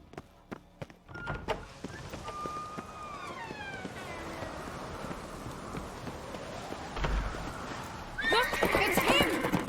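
A horse in The Witcher 3 whinnies loudly in a rising then falling call over hooves clopping and busy game ambience, with a sharper burst of noise near the end.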